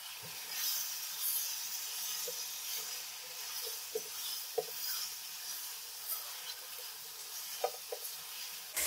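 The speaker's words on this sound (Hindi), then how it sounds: "मसाले डालने के बाद हम इसको 5 मिनट भून लेंगे।" Balochi karahi masala frying in a pan, giving a continuous bright sizzle and hiss with a few soft scraping and clinking stirring strokes scattered throughout.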